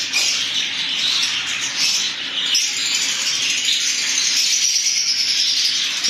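Lovebirds chatter continuously with shrill squawks and chirps, a dense close flock calling over and over.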